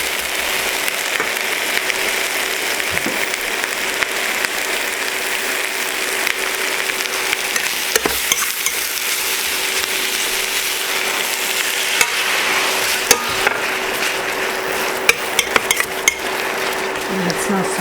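Shrimp and garlic sizzle steadily in a hot wok, a continuous bright frying hiss with occasional clinks and stirring scrapes, close and unbroken throughout with no talk.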